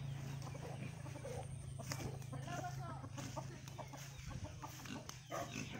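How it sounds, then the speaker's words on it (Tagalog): Chickens clucking in a rural farmyard as one is about to be caught, with short faint clucks scattered over a low steady hum and quiet voices in the background. "Itong chicken, hulihin na yan at katayin."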